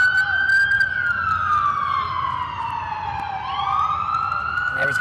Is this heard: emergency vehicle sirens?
yes